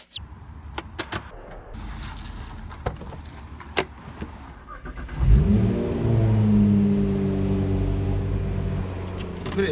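An R35 Nissan GT-R starts and its engine rises into a loud, deep revving idle after some clicks and key jangles inside the car.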